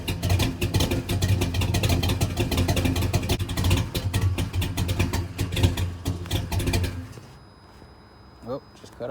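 A car engine revs hard and loud with a dense, crackling run that suddenly cuts out near the end and leaves near-silence. Someone speaks briefly as the noise drops away.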